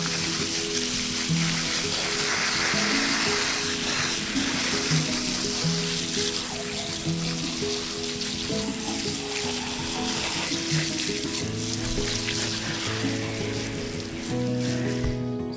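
Cleaned white bass, butchered with its eggs left in, gets rinsed under running water: a steady, close, broad splashing hiss that lasts throughout, with a tonal music bed humming beneath it.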